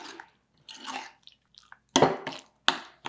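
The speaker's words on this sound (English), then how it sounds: "Stir that in." A spoon stirring keto cauliflower potato salad in a bowl: a few short, wet, squishing scrapes and clacks close up, with small pauses between strokes.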